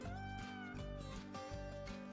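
A car that makes a meow-like noise when accelerating fast. A tonal, wavering cry rises and falls in pitch over a steady mechanical drone, resembling a cat's repeated meows.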